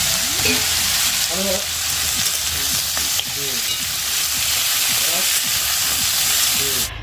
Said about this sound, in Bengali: এখন বাটা মশলাটা এর মধ্যে দিয়ে দিলাম আর দিয়ে দেবো পরিমাণ মতো লবণ আর হলুদ দিয়ে ভালো করে মশলাটা একটু ভেজে নেব